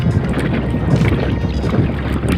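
Steady rumbling drone of a boat ride out to an island over deep water, dense low-end engine and water noise with wind buffeting the microphone, continuous throughout with no talking.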